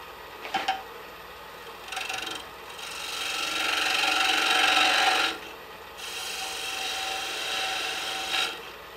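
Detail gouge rasping across wood while shaving down a small birdhouse ornament, a close, steady scraping stroke building through several seconds with short pauses and a few sharper scrapes between.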